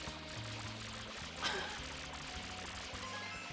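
In Super Mario Sunshine, water streams steadily into the FLUDD pack, a constant pouring rush under game music with a brief chime partway through.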